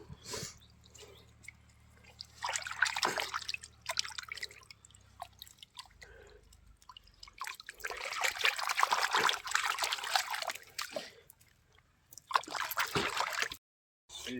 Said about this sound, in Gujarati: તો ચાલો હું સરખા વ્યવસ્થિત ધોવા જાય ને એટલે તમને બતાવું હજી સરખા ધોઈ નાખો